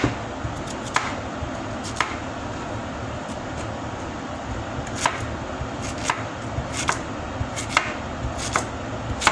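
A knife slices vegetables for soup on a kitchen board, with a steady series of crisp, irregular cuts over a constant low background hum.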